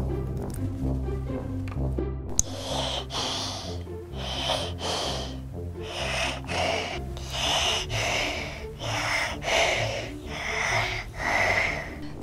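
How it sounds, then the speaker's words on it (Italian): Rhythmic breathing through a stethoscope during a pretend doctor's checkup on a Barbie doll: about ten steady breath-like whooshes, close and fairly loud, over soft background music. "Vediamo un po' com'è il tuo respiro."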